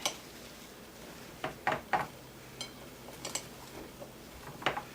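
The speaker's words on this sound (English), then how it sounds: "So let me cut this one more time." A knife cuts through a vegetarian ham roast on a board, with scattered light clicks and taps of the blade against dishes, spaced irregularly over a quiet kitchen background.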